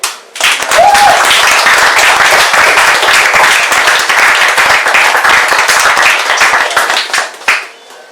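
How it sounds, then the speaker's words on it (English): A small open-mic audience claps for Matthew, a steady burst of dense applause that starts abruptly, holds loud and even for several seconds, then tapers off near the end. "Can we please give a wonderful round of applause to Matthew?"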